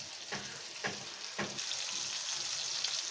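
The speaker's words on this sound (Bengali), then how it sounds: "তেলের ভিতরে রান্না করছি আস্তে আস্তে" Chicken steak pieces frying slowly in about three tablespoons of oil in a pan, a soft continuous sizzle with a few faint scrapes from turning, quiet and close with no voices.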